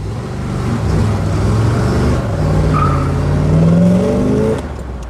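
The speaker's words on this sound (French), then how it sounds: "avec son petit moteur, son petit small block. Ça sonne bien." A small-block car engine runs loud and steady nearby, its low rumble rising and settling in pitch through a few light revs before dropping off near the end.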